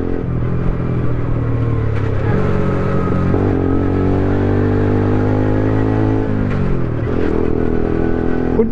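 A loud, steady Aprilia motor scooter engine drones with a rough aftermarket exhaust note, its pitch shifting slightly as it revs up and settles, with no talking over it.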